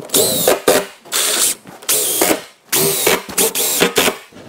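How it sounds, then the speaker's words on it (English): A power drill drives screws into a wooden bed frame board in repeated loud bursts, about eight short whirring runs separated by brief pauses, close and with no talking. "So we'll tilt this back and we'll screw in this board. 4 screws is probably good enough."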